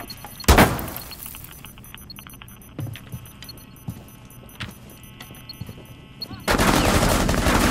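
Gunfire in Rainbow Six Siege: one loud, sharp shot near the start, then quieter clicks and small impacts, ending in a sustained burst of automatic fire.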